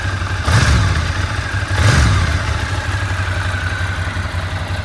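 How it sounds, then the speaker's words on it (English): The engine of a 2006 Ducati ST3S ABS motorcycle runs with a steady low throb, swelling twice briefly as if blipped, close and loud, with no talk. "They're really nice and roty on the engine note"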